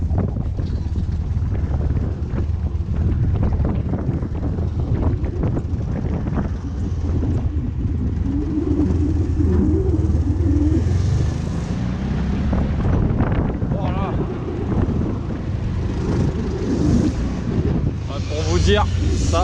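A Volkswagen Kübelwagen held in first gear rumbles loudly and continuously over rough ground, with heavy wind buffeting across the microphone and someone talking over it at times.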